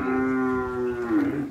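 An ox at a cattle fair in São Benedito, Ceará, lets out a single long, loud, close moo that bends downward at the end over a low murmur of background noise.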